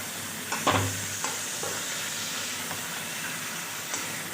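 Mango chicken sautéing with sugar in a pan gives a dense, continuous sizzle and hiss, with a few spoon knocks near the start, heard up close without any talking.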